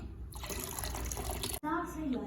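Lassi sweetened with jaggery being poured into a container in a home kitchen, a steady close liquid splash and gurgle running almost the whole time with a brief break near the end.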